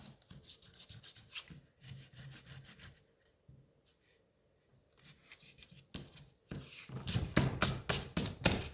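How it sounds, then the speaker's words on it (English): An eraser rubs pencil lines off a paper pop-up easel card in quick, repeated scratchy strokes. The strokes come in short bursts with brief pauses and grow louder near the end, close and with no voices. "I'll just remove these pencil lines before I forget."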